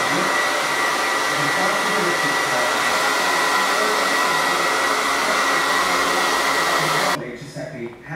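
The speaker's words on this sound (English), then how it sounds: "I don't blow dry my hair all the time, but I have somewhere to be very fast" A hair dryer blow-drying hair, running as a loud, steady close-up whoosh for about seven seconds before it cuts off abruptly.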